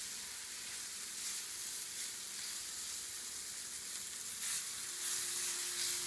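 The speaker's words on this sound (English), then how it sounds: "I don't know if you can hear the sizzle of the beef" Beef sizzling in a frying pan before mushrooms are added, a soft, steady frying crackle and hiss with faint stirring, no voices.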